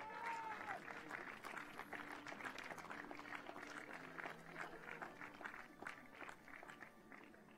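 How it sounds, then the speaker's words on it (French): Audience at a French compound archery championship awards ceremony in Riom clapping for medal-winning champions, a steady dense wash of applause with crowd noise and some talk underneath throughout. "vous pouvez vraiment les applaudir très, très, très fort"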